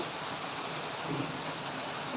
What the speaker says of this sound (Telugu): వర్షం అయితే భారీగా పడుతుంది చూడండి